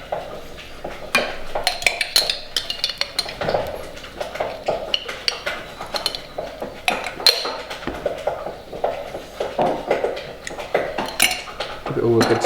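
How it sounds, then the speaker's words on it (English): Spoon stirring chicken pie filling with Dijon mustard in a metal pan, repeated scraping and clinking strokes close up, steady throughout with a few sharper knocks. "Give it all a good stir"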